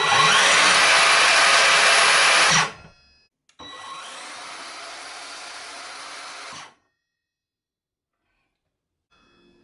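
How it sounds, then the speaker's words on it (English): An Evolution R185SMS-Li cordless 185mm sliding mitre saw whines loudly at full speed for a few seconds and stops abruptly, then runs again more quietly and is snapped to a halt by its electronic brake, leaving silence. "if you press the second lever, the saw will come on."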